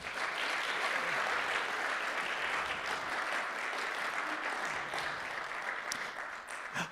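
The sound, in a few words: audience applause at a book club music night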